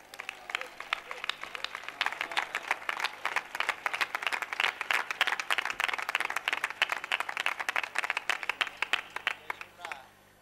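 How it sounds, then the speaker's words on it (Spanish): Rhythmic, evenly spaced clapping from the audience at the 2008 Gines carnival proclamation, a steady beat of hands for about ten seconds, fairly close and clear, tapering off at the end. "Fuerte aplauso para ellos."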